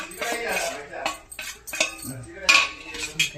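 Thick mango puree with jaggery stirred in a pan, a spoon scraping and clinking against the metal in several short bursts, close and moderately loud.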